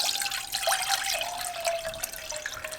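Water running from a tap into a saucepan on a kitchen stove, a steady close hiss and splash with a faint ringing tone, no voices.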